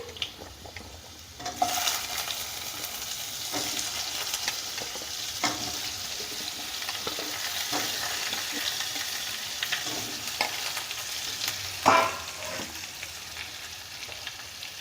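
Ash gourd pieces dropped into a hot pan for arhar dal, a loud burst of sizzling that settles into steady frying with occasional stirring scrapes and a sharp clatter near the end.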